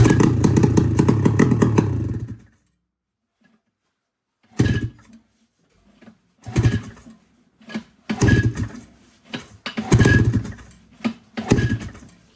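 A Ski-Doo MXZ500 snowmobile engine roars loudly for about two seconds and cuts out, then fires again in a run of short, uneven sputtering bursts with brief silences between them.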